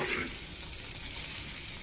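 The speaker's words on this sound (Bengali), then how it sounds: "আর এখানে সসিন্দা ভাজি করতেছি।" Sosinda vegetable bhaji fries in a pan with a steady, close, dense sizzle throughout, with no talking.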